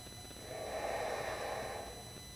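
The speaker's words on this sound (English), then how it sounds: "Nice full deep inhales and exhales." Deep breathing during a slow athletic yoga flow: one long, soft airy exhale swells and fades over about two seconds, close and quiet, with no talking.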